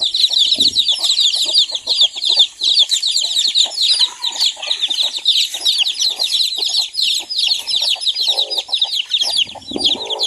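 Many chickens, including a mother hen, clucking and chirping close by in a busy, continuous chorus, with scattered soft rustling underneath.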